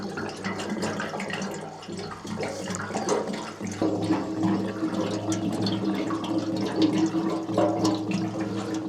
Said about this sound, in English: I've filled it up with fuel, as you've just seen.